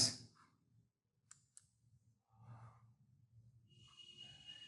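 Two sharp, quiet computer mouse clicks sound about a third of a second apart amid near silence, with a soft low background hum and faint breathy noise around them.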